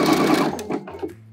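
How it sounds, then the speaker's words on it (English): A sewing machine stitches and backstitches a seam on a string bikini top, its rapid needle hum running steadily and close, then slowing and stopping briefly before a short final burst. "I'm gonna stop at my other pin and backstitch"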